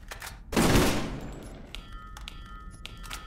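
Burst-fire weapon in the video game Borderlands lets off a loud, sharp volley of rapid shots that decays into a ringing tail, followed by faint clicks and background game tones.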